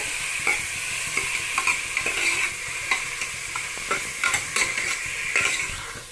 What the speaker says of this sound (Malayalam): കുറച്ച് വെളിച്ചെണ്ണ ഒഴിച്ചെടുത്ത് ഇതൊന്ന് വരണ്ട് വിട്ടട്ടെ